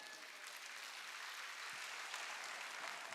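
A church congregation claps together in an even, continuous patter that sounds faint and slightly distant throughout, with no voices over it.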